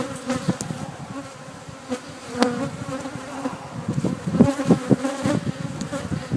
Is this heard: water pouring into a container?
no